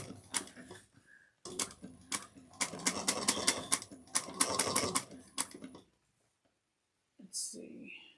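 A sewing machine back stitching a seam on a bucket bag, bursts of rapid rhythmic needle clatter in two runs with a short pause between, close and clear, then silence and a brief voice at the end.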